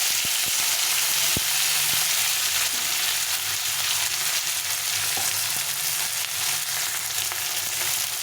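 Chopped tomatoes fry in a pan with onion and spices, a steady loud sizzle with occasional stirring scrapes and clicks of a utensil throughout, no voices.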